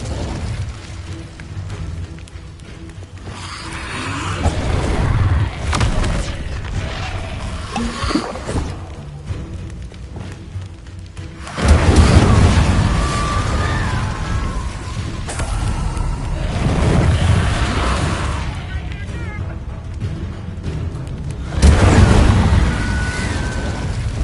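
Fire spell cast in Hogwarts Legacy: loud, repeated booming bursts of flame with whooshing roars, heavy low rumble swelling at several points, no talk.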